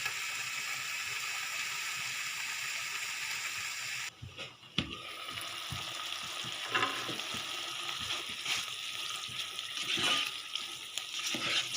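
Chicken stewing under a lid in its own juices over low heat for a paratha roll filling, giving a steady close sizzle and bubbling with a brief drop partway through, then lighter crackles and a few utensil clinks.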